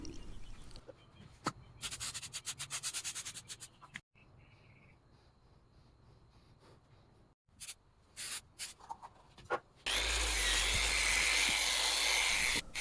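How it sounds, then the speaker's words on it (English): A Harbor Freight long-throw sander/polisher works on a cedar wood mantle, with scratchy bursts early on and then a loud, steady, broadband whirring roar that cuts in near the end. "I would like to plug this long throw sander and polisher from Harbor Freight"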